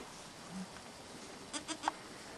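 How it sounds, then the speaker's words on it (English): Goats in a farm pasture in Slovenia give a few faint, short bleats near the end, heard over a steady outdoor background hiss. "Here are the goats."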